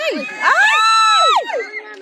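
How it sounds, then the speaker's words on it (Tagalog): Crowd at an elementary boys' football match between Rizal and Laguna, with loud overlapping shrieks and cheers from children and adults swelling and fading together, up close. "Ayun, tili eh."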